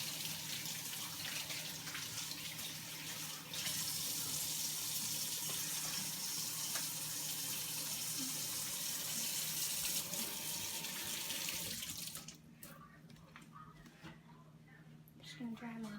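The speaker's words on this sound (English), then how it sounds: "so I'm just gonna wash my hands" Tap water runs steadily into a sink while hands are washed, a close, even gushing that stops near the end, followed by faint handling noises.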